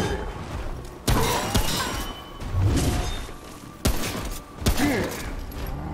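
Gunfire rings out in the game Remnant from the Ashes, sharp loud shots and bursts scattered through the clip among thuds and game effects, with a player's voice faintly in the background.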